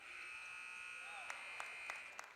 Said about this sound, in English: Brady Cutting did get the shot off before the buzzer, but no good